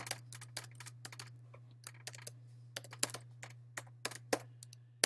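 Close, brisk keystrokes on a computer keyboard as a username and email are typed in, irregular clusters of clicks over a steady low hum.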